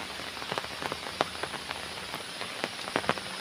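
Rain falls steadily in Assam during a morning walk, a soft continuous patter with scattered sharper drop hits close by, no voices.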